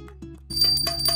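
A small bell rings sharply and repeatedly up close during a Janmashtami celebration at home, a bright metallic tone following a few soft knocks.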